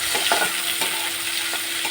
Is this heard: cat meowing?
no